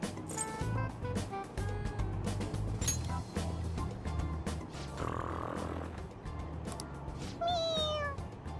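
A low, steady rumbling hum fills most of the clip, then a single short video game toy cat meow sounds near the end.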